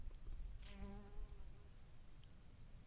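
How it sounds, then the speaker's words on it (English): Small black wild bees, about honeybee size, buzz faintly around blooms in an outdoor garden, a brief close pass of wingbeat hum over soft steady background noise. "There's some little black bees, bumblebee looking bees, only smaller."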